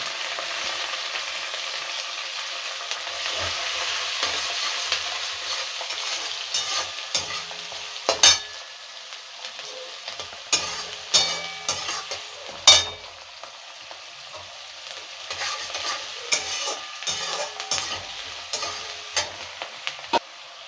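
Chopped onion frying in a pan for a Bengali dried-prawn dish, a continuous close sizzle with occasional clicks and scrapes of a stirring spoon.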